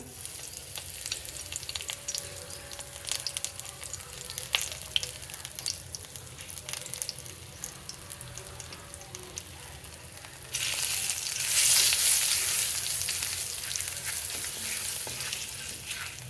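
Asafoetida hits hot oil for a vegetarian stuffed potato curry. A steady close sizzle swells louder partway through and keeps frying alone, with no voices.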